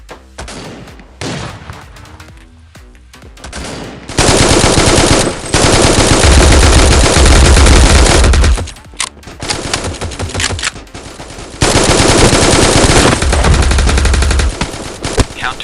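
Rifle and SMG fire in the mobile shooter Forward Assault during a bomb-mode match, loud sustained automatic bursts stretching several seconds, broken by short pauses and single shots, close and dominant with no talk.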